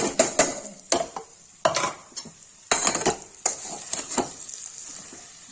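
Onions are stirred in a cooking pot for a Kashmiri-style soya chunk and tomato dish. A spoon gives sharp metallic scrapes and clinks in irregular bursts, with a faint sizzle between the strokes.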